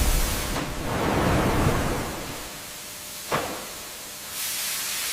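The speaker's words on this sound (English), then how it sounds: "Inside, high-pressure steam eliminates any contaminants, ensuring the long-term preservation of the canned papaya." Hissing high-pressure steam fills a sealed canning retort sterilizing canned papaya, a broad steady rush that swells then eases, with a brief sharp burst midway and a renewed hiss near the end.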